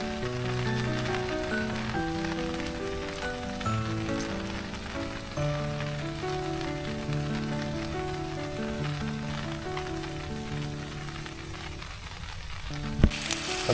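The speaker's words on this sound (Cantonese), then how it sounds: "食完晏咧就落雨啦，咁唯有喺個天幕下邊就咁坐喺度等啦" Rain pattering steadily on a campsite tarp overhead, a dense crackling patter that holds at an even level throughout, with a few sharper taps near the end.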